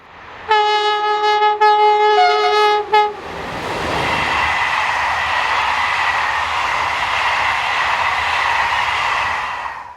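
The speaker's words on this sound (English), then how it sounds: "26016 heads west with a train for Cherbourg." French electric locomotive 26016 hauling a westbound passenger train for Cherbourg sounds a loud, sustained two-tone horn blast for about three seconds, then rumbles past with a steady, continuous roar of wheels and wagons.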